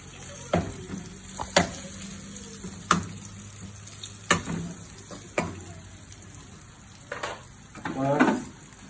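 A quarter tablespoon of butter melts in a hot pan, giving a steady sizzle. Sharp clinks and scrapes from a utensil break in now and then, and there is no talking.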